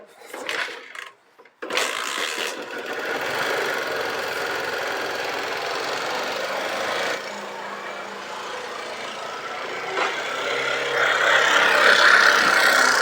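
A Hero Achiever motorcycle engine with a worn timing chain and piston runs with a harsh, continuous knocking rattle, close and loud after a few brief handling noises at the start.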